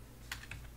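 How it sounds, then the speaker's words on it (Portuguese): Short burst of typing on a computer keyboard while entering a web address, a few quick key clicks close and clear over a low steady hum. "Vou digitar aqui"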